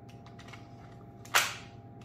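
A Z.68 gun loaded with a Cymrutec 20 g magazine fires a single sharp, snappy shot midway through, standing out cleanly against a steady low electrical hum with no talking.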